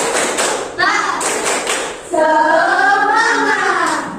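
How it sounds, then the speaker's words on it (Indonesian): A group of children and adults in a classroom clapping a rhythmic spirit clap, short patterned claps mixed with shouted voices chanting along, loud and close. "Ya, tepuk semangat."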